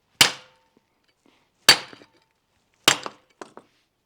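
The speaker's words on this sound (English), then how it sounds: "I got a brick here, and they show you taking this and chipping the brick right in half." A steel hand digger strikes a brick three times, each blow a sharp ringing chip about a second and a half apart, close and clear, with small fragment clinks trailing the later hits.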